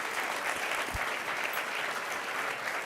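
Live podcast audience applauding, a full, even round of clapping heard throughout with a single low thump near the start.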